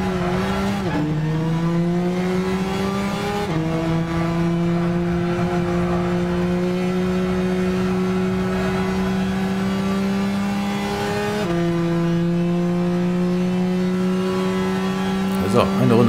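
A race car engine in Gran Turismo 6 drones loudly and steadily at high revs, with a few distinct gear shifts marked by brief dips and jumps in pitch, while someone talks over it.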